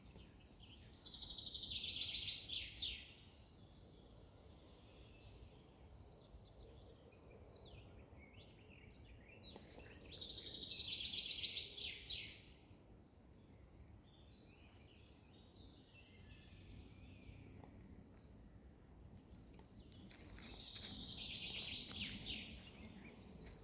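Forest birds sing in three separate bursts of bright, high chirping and trilling, spaced several seconds apart over a quiet woodland background.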